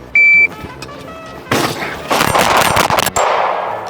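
Several sharp gunshots are fired at a target outdoors, close and loud, including a quick cluster of shots, with short gaps and ringing tails between them.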